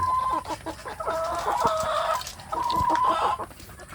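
Free-range village hens clucking repeatedly at close range, with short tonal calls and a brief crow-like phrase mixed in, steady farmyard chatter with no voices.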